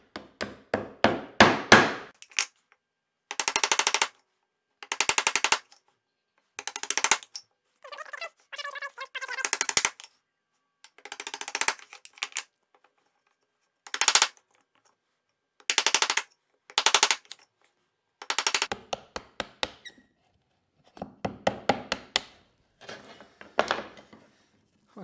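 Hand saw cutting wood for a small hand-tool workbench with a vice. Close, rhythmic rasping strokes come in short bursts separated by brief pauses, with no voices.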